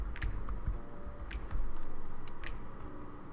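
Steady keyboard typing at a computer while playing a crime-database game, quick clustered key presses close up over a low background hum.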